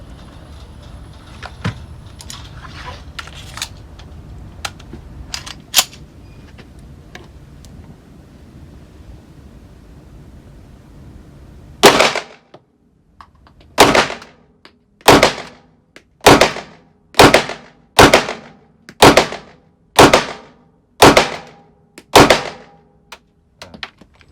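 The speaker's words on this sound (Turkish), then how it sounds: "Arkadaşlar şimdi CZ75A modelimizle bir atış yapalım." Sharp, loud single reports from a CZ 75 A pistol ring out about a dozen times at a brisk, slightly uneven pace, each crack followed by a brief decay, after a stretch of quieter handling noise.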